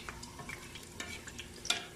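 Pork belly frying in a pan over the stove, a steady close sizzle with spattering crackles and occasional stirring scrapes, one sharper pop near the end.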